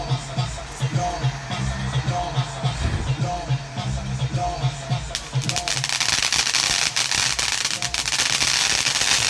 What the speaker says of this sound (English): These are some advanced fireworks.